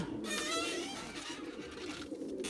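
A male lemon-coloured pigeon coos to its female, a close, soft throaty burble rolling on over about two and a half seconds at low level, with no voices.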